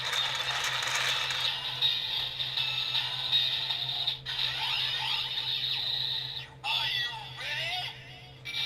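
A Kamen Rider Build Driver toy crank is turned, giving a close, rapid ratcheting clicking with a high electronic tone from the toy, broken by a few short pauses.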